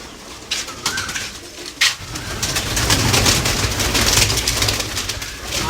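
Pigeons at a loft make soft, low cooing and wing flutters amid a busy, rustling background, with a couple of sharper bursts near the start and no talking.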